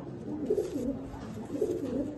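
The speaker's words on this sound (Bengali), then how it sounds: "দারুণ পায়রা।" Low throaty cooing from loft pigeons in a home collection comes in two rounded swelling phrases, near and steady, with no talk.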